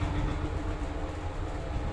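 A Fujitec elevator car in Dover rumbling like a train while moving, a steady, dense mechanical roar with faint rattling, close and continuous, with no talk.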